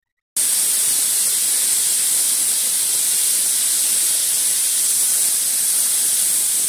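Pressure cooker venting steam with the lid on, a sudden loud continuous hiss that starts sharply and holds steady and close for several seconds.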